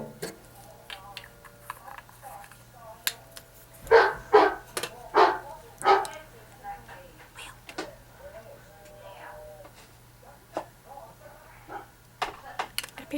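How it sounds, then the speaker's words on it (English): A large German Shepherd barks through a baby monitor in a quick cluster of four or five sharp, slightly tinny barks, moderately loud, with quieter clicks and movement around them. "He's a giant German Shepherd, and he barks at anything that comes through the door."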